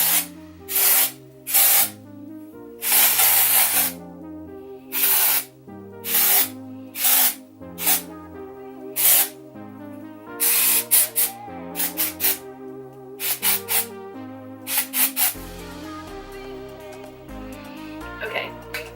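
Batiste dry shampoo sprayed onto sectioned hair in a series of short, loud aerosol bursts, separated by brief pauses and growing quicker and shorter toward the end, with music underneath throughout.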